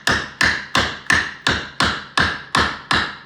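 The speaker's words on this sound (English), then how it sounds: "I'll probably use the flat bar, pry bar here. Get it right there on the corner." Eight evenly spaced sharp metallic taps as a flat pry bar is struck against old brick on a fireplace, each a loud close hit with a short ringing decay, steady rhythm, no talking.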